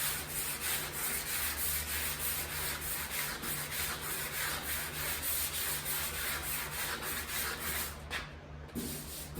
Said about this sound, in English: this is just sandpaper, just to show.